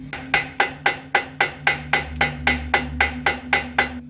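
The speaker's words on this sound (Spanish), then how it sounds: "Como no acaba de salir con los golpes del martillo de nylon" Steady, evenly spaced nylon hammer blows on a car's steering axial joint, about three per second, each a sharp ringing knock, close and loud over a low constant hum.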